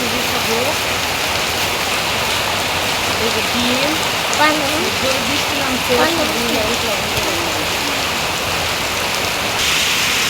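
Steady rain hisses loudly and evenly throughout, with a person talking briefly over the downpour.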